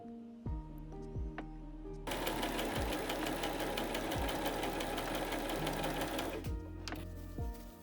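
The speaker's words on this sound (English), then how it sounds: "We fold fabric and sew it." A sewing machine runs in a steady, fast mechanical rattle for several seconds while stitching folded silk tie fabric, with short clicks and handling noises before and after the burst.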